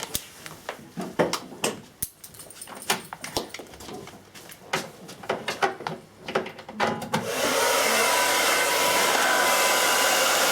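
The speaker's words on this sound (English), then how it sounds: "so just say if I blow dry it like this." A hair dryer switches on and blows steadily on hair at a barbershop, a loud even whoosh that runs to the end after several seconds of clattering, tapping handling noises.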